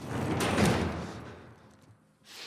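A door being barricaded shut in The Last of Us video game: a loud scraping, rumbling shove that swells, fades out, then a short fresh scrape at the end.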